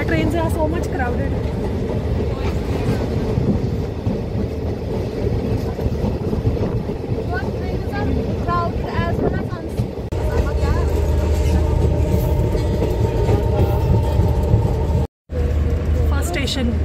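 Vistadome passenger train on the Srinagar to Jammu line in Kashmir, running with a steady rumble and rail clatter under continuous talk on board, with a brief dropout near the end.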